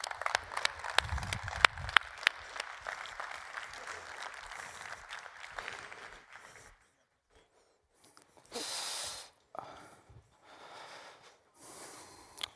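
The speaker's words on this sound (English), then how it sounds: "give the biggest round of applause," A main-stage audience at a blockchain conference applauds, clapping loud and dense for about six seconds before fading out, followed by near silence and a few scattered bursts of noise.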